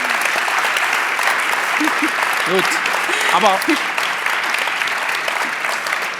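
An audience claps steadily through a lecture hall session on dreams and sleep, a sustained wash of applause while a voice speaks briefly over it.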